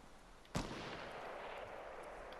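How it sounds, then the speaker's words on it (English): A single sharp sniper rifle shot cracks in Fortnite, one faint distant report that leaves a lingering tail over quiet background game ambience. "Somebody's just sniped."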